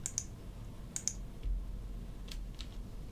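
A few sharp, light clicks in pairs, like a computer mouse being pressed, close by against a quiet room hum with no talking.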